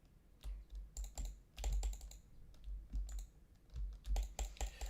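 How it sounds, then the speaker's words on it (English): Rapid, irregular clatter of a computer keyboard being typed on, clustered bursts of sharp key clicks close up with short pauses between, no voices. "Typing sound effects.mp3"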